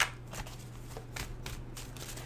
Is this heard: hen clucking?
no